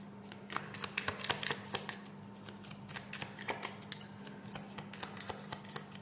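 Christmas-themed tarot cards handled and shuffled, giving a steady run of crisp, close riffling flicks and slaps over a low constant hum, with no talking.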